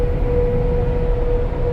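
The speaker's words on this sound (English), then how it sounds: "Big truck going by, you are going to hear, but it's not the end of the world." Steady low rumble and road noise inside a Ford Bronco at speed, with a sustained tone as a big truck goes by outside, muffled and constant for the short stretch with no talking.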